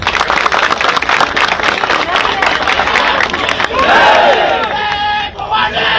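Crowd clapping and cheering at a Maratha community gathering where a hunger strike was ended, loud dense applause mixed with shouting voices, then a rising chorus of cries toward the end.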